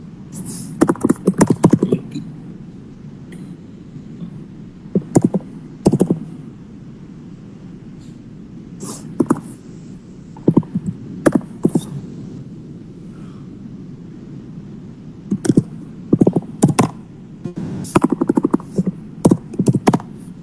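Bursts of rapid clacking keystrokes on a computer keyboard during coding, close and crisp, in irregular flurries separated by short pauses over a low steady background hum.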